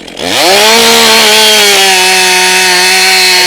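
A STIHL MS 400 C chainsaw revs up quickly and holds a loud, steady whine as it bites into wood, close and continuous.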